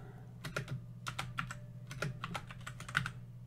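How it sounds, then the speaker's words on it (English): A name is being typed on a computer keyboard in quick, uneven bursts of soft, close key clicks, with brief pauses between groups of strokes, in a quiet room. "We're going to go ahead and we'll just type"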